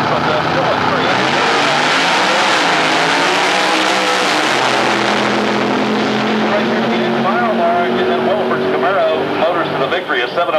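Loud drag racing engines from an NMCA event at Atlanta Dragway roar steadily for the whole stretch, their harmonic whine rising as the cars run, with a commentator talking over the din.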